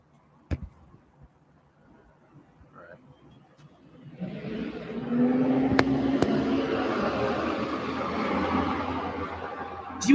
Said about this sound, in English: Do you hear how noisy that bus is?